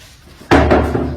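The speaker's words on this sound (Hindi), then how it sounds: "ये गेट बंद हुआ है भाई, जैसे ही मैं बाहर निकला ना ये गेट बंद।" A gate slams shut with one loud, heavy bang that rings and rattles briefly before fading, close by after a quiet outdoor background at an old haunted house in Hyderabad.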